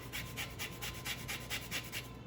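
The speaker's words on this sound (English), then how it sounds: "a good amount of the zest of that orange, just using a little grater" Orange zest is grated on a small hand grater in a kitchen, a quiet, rhythmic rasping of about ten even strokes heard close up with no talking.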